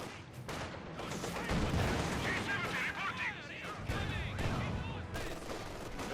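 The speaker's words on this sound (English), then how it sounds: "Continue to mortar away at the sod." Mortar and gunfire in a Company of Heroes 2 one-versus-one match, with 82mm mortar crews shelling: a dense, continuous rumble of shots and blasts under a commentator's voice.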